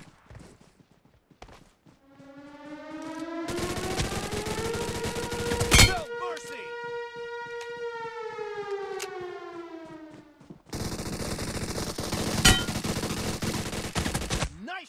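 PUBG Mobile gunfire rings out as a few sharp shots and brief bursts over a loud, rising and falling siren, with a couple of louder noisy stretches of shooting and movement.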